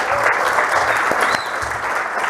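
A church congregation claps during a Portuguese-language worship service, a dense, steady applause that holds evenly throughout at moderate loudness.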